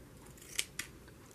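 Pinking shears cut through fabric in two quick, close snips, crisp and near, against a quiet background.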